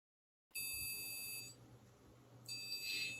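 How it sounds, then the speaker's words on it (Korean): A passive buzzer wired to an Arduino's digital pin 9 gives a short, shrill electronic do note, a pause of about a second, then the same beep again, close and clear in a quiet room. "1초 간격으로 도 소리가 나는 것을 확인할 수 있습니다"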